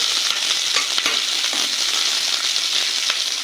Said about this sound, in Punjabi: ਹੁਣ ਪਾਵਾਂਗੇ ਜੀ ਆਪਾਂ ਪਿਆਜ਼ ਇਹਨੂੰ ਵੀ ਹਲਕਾ ਜਿਹਾ ਭੁੰਨ ਲਾਂਗੇ